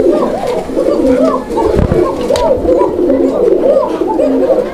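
Pigeons coo steadily at a busy pigeon market, their overlapping low warbling calls dense and close, with a faint murmur of people in the background.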